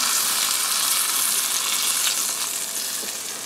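Chicken cutlets with a breaded crust sizzle steadily in a pan of hot oil, a dense, even hiss that stays loud throughout and fades only slightly toward the end, with no talking.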